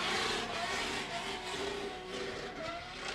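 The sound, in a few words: drift car engine bouncing off the rev limiter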